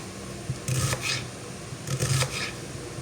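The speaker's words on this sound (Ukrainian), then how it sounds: "ми беремо з вами е, цибульку і я буду отак от її різати крупненько" A knife cuts coarsely through an onion on a cutting board, two short bursts of crisp slicing and board knocks separated by a quiet pause, close and fairly faint.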